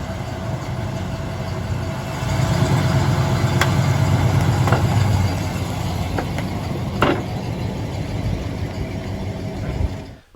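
A vehicle rolls slowly over click flooring laid on Insul-Armor insulation panels, making a low rumbling engine drone with a few faint creaks and clicks as it passes, then fading.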